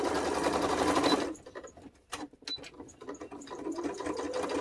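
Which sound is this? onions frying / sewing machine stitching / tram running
sewing machine stitching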